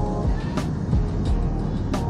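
On the Autobahn, a car is overtaken at speed by an electric SUV, heard as a steady close road and wind roar with a couple of brief whooshing swells as the vehicles draw alongside.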